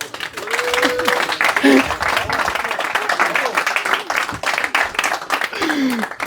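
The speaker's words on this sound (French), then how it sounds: "on l'applaudit" A live comedy-show audience breaks into applause for a volunteer, a dense wash of clapping with a few voices talking and laughing over it.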